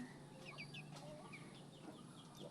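Chickens cluck softly in short repeated calls over a constant background hum, somewhat distant and faint.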